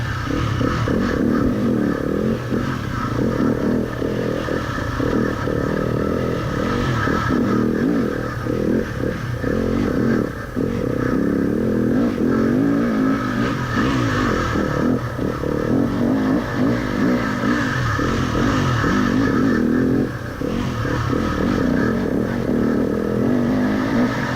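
A dirt bike races in a hare scramble, its engine loud and close throughout, revving hard and dropping briefly as it shifts down before pulling again, with clattering over rough ground and no speech.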